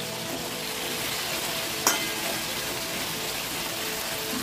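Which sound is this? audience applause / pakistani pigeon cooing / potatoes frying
potatoes frying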